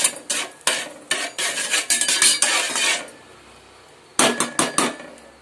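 A spoon stirs popcorn kernels with turmeric and salt in an oiled pan, making loud, close metallic scrapes and clinks in a quick, uneven rhythm, then pausing briefly before another burst of stirring.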